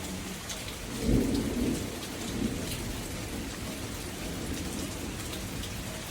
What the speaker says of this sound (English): Y'all hear the rain hitting on that metal glider thing I've got right there.